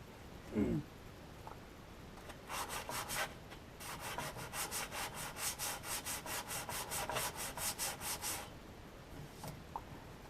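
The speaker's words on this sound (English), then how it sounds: "why am I sanding on brand new brake shoes?" Rhythmic back-and-forth sanding strokes on new brake shoes for a 1946 Chevy, a steady run of about twenty scratchy passes, close up, with a few knocks before and after.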